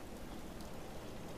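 Steady rain falling in the video game Fallout 4, a soft continuous hiss of drops with no voices.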